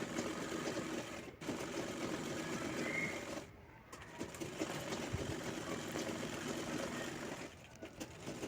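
A sewing machine runs steadily, stitching the side seams of a gown made from an old saree, a continuous mechanical whir with a few brief pauses and no talking.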